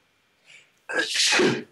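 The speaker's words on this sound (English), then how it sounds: "I gotta sneeze." A soft intake of breath followed by a single loud, close sneeze.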